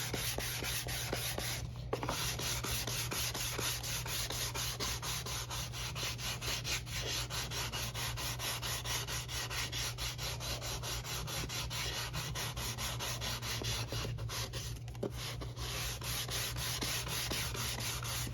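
Close, steady rubbing and sanding on a wooden guitar back brace as its top edge is rounded over, a continuous scratchy texture with short pauses around two and fifteen seconds.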